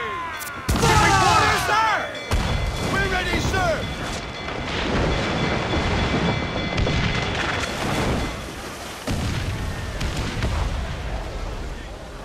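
Pirate ship cannons fire in an Assassin's Creed IV Black Flag naval battle: loud booming volleys, several in quick succession early on, then rumbling blasts with crew voices shouting over the din.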